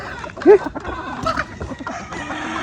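Laying hens on a farm give short clucks, with one louder, rising squawk standing out near the start over low barnyard background noise.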